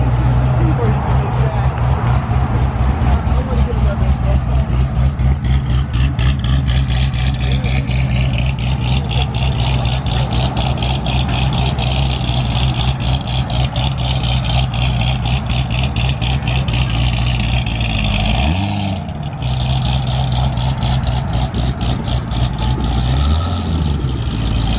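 A Nissan Skyline R34 GTR idles at a car meet with a choppy cam, its low, loping engine note steady and close throughout while people talk over it.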